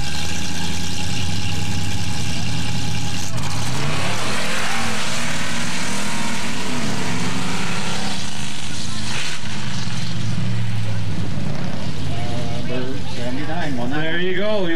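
Chevy truck racing down a mud drag strip at Wayne, Nebraska, a loud, roaring engine that climbs and shifts in pitch as the truck runs, with an announcer talking over it.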